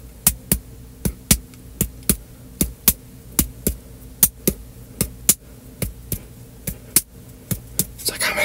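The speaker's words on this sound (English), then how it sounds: "Listen to the heartbeat." A steady series of close, soft thumps, evenly paced at roughly two or three per second like a heartbeat, sits over a low hum in a quiet room.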